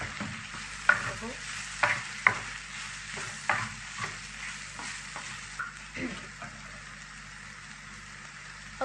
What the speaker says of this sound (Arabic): حط معلقة عشان تساعد معاك في التقليب وما تلزقش في الطاسة